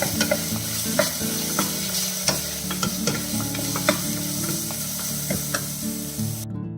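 Ginger-garlic paste frying in a pan for a cauliflower white kurma, a steady close sizzle broken by scraping stirs and clicking spoon taps, with no talking, cutting off abruptly at the end.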